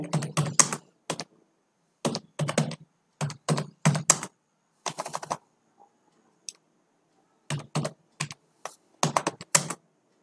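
Fast keystrokes on a computer keyboard while entering a Helm dry-run debug command, coming in close, crisp bursts of clicks separated by short pauses, with no talking.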